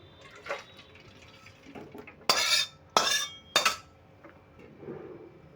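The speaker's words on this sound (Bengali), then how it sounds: "এবার আমি ঢেলে নেবো একটা পাতলা একটা ফুটো থালায় আমি ঢেলে নিচ্ছি" A banana flower mixture is poured into a thin perforated plate, with three sharp metallic clatters in quick succession standing out over quiet kitchen handling noise.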